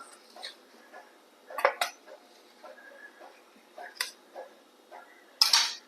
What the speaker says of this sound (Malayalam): കിണ്ണം വെച്ചിട്ട് നമ്മൾ കത്തി കൊണ്ട് ഇങ്ങനെ ആക്കി എടുക്കണേ